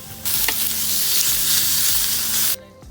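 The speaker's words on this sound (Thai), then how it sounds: "เรานำหมูสามชั้นมาผัดจนน้ำมันออกโดยใช้ไฟอ่อน" Pork belly stir-fries over low heat as its fat renders, a loud, steady sizzle with a few stirring knocks, close by, cutting off abruptly near the end, no talking.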